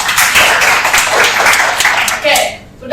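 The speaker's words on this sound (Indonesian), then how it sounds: "Ya, tepuk tangan dulu." Classroom applause: students clap hands in a brisk, fairly loud burst that thins out near the end, followed by a teacher's voice coming in as the clapping stops.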